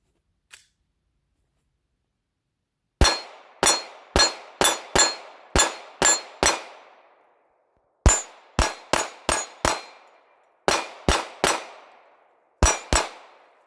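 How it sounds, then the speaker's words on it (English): Glock 34 pistol plinking at steel targets, firing sharp, loud shots in quick bursts of six or seven, each crack followed by a ringing clang and short decay, with pauses between strings. "Just some plinking with the Glock 34."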